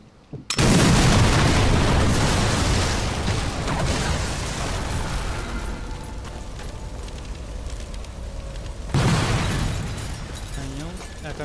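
A truck explodes in Sniper Elite 4 with a loud sudden blast that roars on with crackling fire and debris, then a second blast hits near the end.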